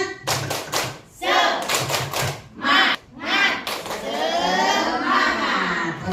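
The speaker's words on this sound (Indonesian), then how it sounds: "Baik Bapak Ibu, kita tepuk-tepuk dulu ya." A group of teachers at a training workshop does a spirit clap, bursts of rhythmic clapping in short sets alternating with chanted voices.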